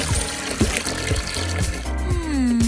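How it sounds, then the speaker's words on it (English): Blue water poured into a clay pool in a cartoon scene, heard as close bubbling and trickling with gurgling plops, ending in a rising watery tone. "Let's add some blue water, complete with magnetic fish."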